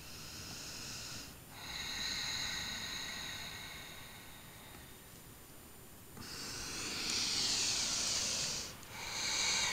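Slow, deep breaths during a yoga class, long airy inhales and exhales, close and steady, with brief pauses between them and no talking.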